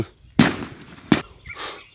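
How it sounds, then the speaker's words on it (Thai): Two loud, close firework bangs go off about three quarters of a second apart outdoors near a rice field in Thailand, followed by a brief fainter crackle. "มีพลุเสียงดังมานิดหน่อย อาจจะงานศพนี่แหละ"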